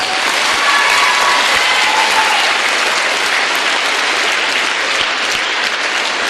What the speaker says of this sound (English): can you give a good round of applause?